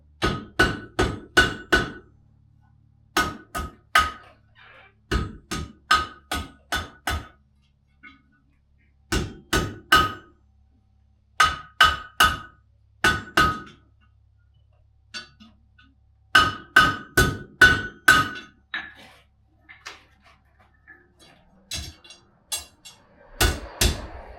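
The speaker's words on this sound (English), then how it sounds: "Finish it up on the horn of the anvil." Blacksmith at a 19th-century historic village hammering hot iron on the horn of an anvil, loud sharp strikes in rapid bursts of four to six blows separated by short pauses, no talking.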